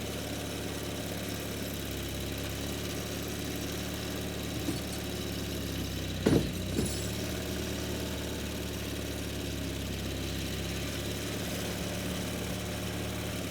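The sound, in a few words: Nissan Mud Beast vehicle engine running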